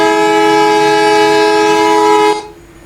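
A loud, sustained train horn in a video game with the Map of Bangladesh mod blares steadily for a couple of seconds, then cuts off abruptly, leaving a faint low rumble.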